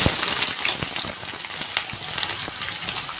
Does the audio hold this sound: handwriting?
no